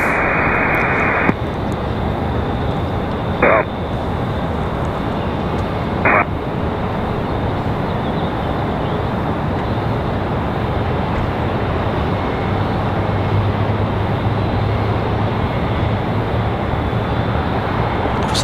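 A Breeze Airways airliner comes in to land at Raleigh-Durham International, a steady, even roar with no clear swell, heard from a distance over broad outdoor noise.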